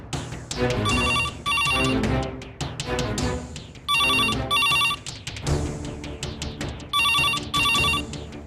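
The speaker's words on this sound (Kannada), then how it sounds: "ಫೋನ್ ಹೊಡ್ಕೋತಾ ಇದೆ." A telephone rings in a home setting in a TV serial scene: bright electronic trilling bursts repeat in pairs with short pauses, loud and steady, under a layer of background music.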